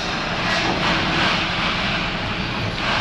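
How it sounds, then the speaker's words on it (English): A car engine running inside an auto repair shop, a steady, fairly loud mechanical drone with slight swells in level and nothing else standing out over it. "Engine must be running."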